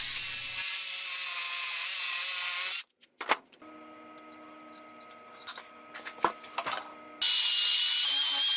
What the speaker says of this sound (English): On the bottom bracket, I cut the corners off